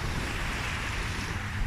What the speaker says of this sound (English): A bit of waves.